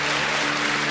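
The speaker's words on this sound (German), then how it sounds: "Einen grossen Applaus für die Siegerin von der Landfrauenküche vom letzten Jahr." Applause at a Swiss farm-women's cooking show finale as last year's winner is introduced, a steady dense wash of clapping filling the whole second at even loudness, with faint hum-like tones underneath.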